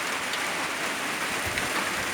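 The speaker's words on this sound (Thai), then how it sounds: "ฝนตกพี่น้อง" Rain falling on a rice-farming cattle field in Thailand, a dense, steady hiss of drops with a constant even patter, no voices.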